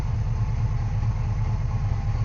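A Cadillac 472 cubic inch V8 idles slowly and steadily at around 550 to 600 rpm, a close, loud low rumble with an even pulsing rhythm and no talking.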